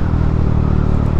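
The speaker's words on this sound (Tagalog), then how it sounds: "pagka pinipiga ko yung throttle talaga, ramdam mo yung smoothness na takbo" A motorcycle engine freshly changed to Shell Advance Long Ride 4T 10W40 oil revs loud and close, a steady, smooth low roar throughout the short moment.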